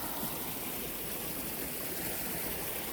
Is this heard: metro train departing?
no